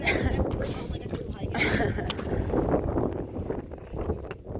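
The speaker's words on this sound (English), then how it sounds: "The wind is kicking up a little bit." Wind gusts across Franconia Ridge in the White Mountains of New Hampshire, buffeting the microphone in uneven surges, with a hiker talking over it.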